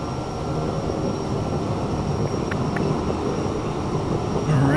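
A light aircraft in a flight simulator taxis toward the runway at an untowered airfield, its engine a steady, broadband drone with a constant whine above, running alone without talk.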